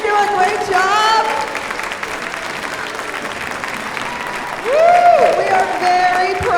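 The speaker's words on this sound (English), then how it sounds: "We're going to close this concert by applauding for our orchestra." Audience at an orchestra concert applauds steadily throughout, with cheering voices rising over the clapping and a loud swell near the end.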